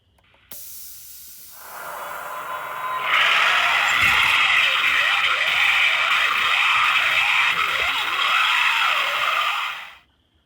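A Scarefactory Skelerector animatronic haunted house prop runs through a test, giving a loud, close pneumatic hiss that builds over a couple of seconds, holds with a pulsing, wavering texture, then cuts off.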